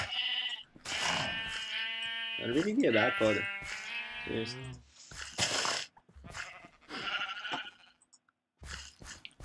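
Sheep bleat repeatedly in a farming video game, their wavering calls rising and falling in bursts and overlapping with someone talking close over them.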